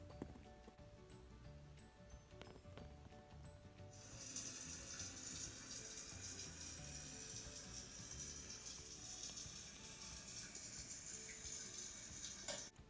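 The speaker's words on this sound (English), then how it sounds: "Well, it's time for me to get in the shower." Shower water running in a Barbie hotel room: a steady, full rush of spraying water that starts a few seconds in and continues unbroken to the end, with no talking.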